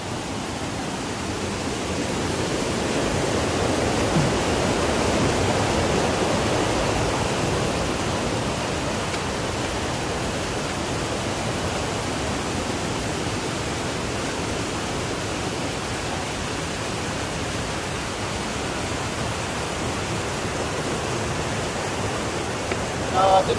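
Water pours continuously at Timuga Falls, a broad steady roar that swells slightly early on and then holds constant, heard alone without talk.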